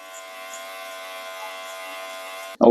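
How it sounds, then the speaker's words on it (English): Electric hair clippers from a grooming trimmer set run with a steady, close, even buzz for about two and a half seconds, then switch off with a brief louder clunk at the end. "So I have my clippers. Let me show you how they work."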